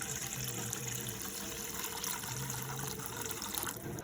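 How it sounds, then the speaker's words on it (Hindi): Hot water pours from a container into a steel pot in a home kitchen, making a steady, close trickling and splashing flow that runs the whole time without talk. "तो खैर पानी जी हम इस स्टील वाले बर्तन में निकाल लेते हैं।"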